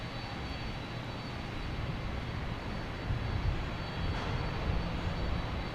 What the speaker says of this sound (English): next to take off, I should say, is a JetBlue flight 2255 heading to Reagan